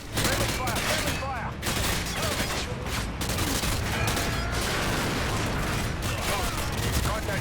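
Automatic gunfire in Call of Duty Modern Warfare 2, dense bursts of shots and impacts filling the scene with battle noise, loud and continuous under game sounds.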